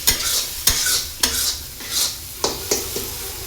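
Masala stir-frying in a pan for a potato and eggplant curry: a loud, close, continuous sizzle with firm spoon strokes scraping the pan about every half second.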